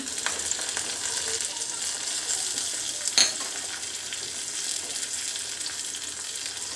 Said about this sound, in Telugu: పోపు సామాలు వేసుకుంటున్నాను